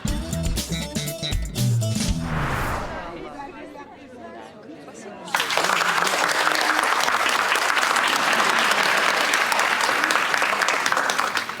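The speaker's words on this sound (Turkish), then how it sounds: "Niye bu insanlar beni durup dururken alkışlıyor?" A theatre audience breaks into sustained, loud applause that swells suddenly after a stretch of crowd chatter and talk, then continues as a dense, steady wash of clapping close around.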